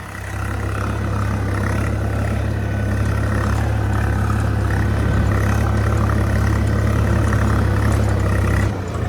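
An old Swaraj 855 tractor engine runs in a field being readied for soybean, a loud, steady, deep diesel rumble that holds unbroken throughout with no speech over it.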